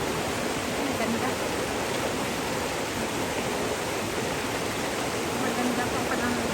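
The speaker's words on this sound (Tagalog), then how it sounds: "Lapitan ko talaga yung yung tubig dito sa dumadaloy na area." Stream water flowing in a scenic mountain setting makes a constant, full rushing roar heard up close, steady and unbroken from start to finish with no clear voices above it.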